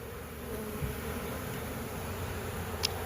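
Honey bees swarm and fan at a small mini mating nuc, giving a faint, steady buzzing hum with one brief sharper sound near the end.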